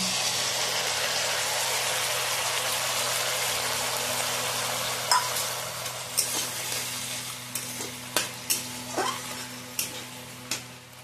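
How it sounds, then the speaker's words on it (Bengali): Premixed sauces go into a pan of fried ginger and garlic for home-style chili chicken, raising a constant sizzling hiss under a low hum, with a run of sharp spoon-and-pan clinks toward the end. "এবার আমি এর মধ্যে আগে থেকে 3টে সসতে গুলে রেখেছিলাম, সেটা এবার এর মধ্যে ঢেলে দেব।"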